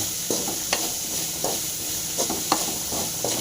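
Bitter gourd fries in salted oil in a pan, giving a steady close sizzle with a few sharp spatula scrapes and taps against the pan.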